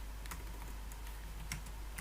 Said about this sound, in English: let's type request code data